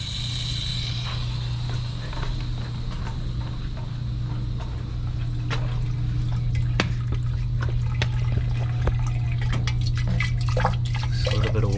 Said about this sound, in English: Just a little bit of water flowing.